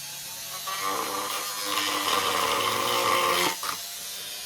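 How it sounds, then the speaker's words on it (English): A Dremel rotary tool grinds into a Glock 19 holster, a faint buzzing whine rising and holding for a few seconds before cutting off abruptly, with no talk. "And then I'm going to take the Dremel and I'm going to Dremel that in a little bit."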